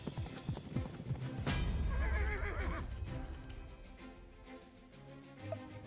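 Horse race bonus in a slot machine game, with galloping clip-clop hooves and a whinny over busy electronic slot music and jingles, loud and continuous throughout.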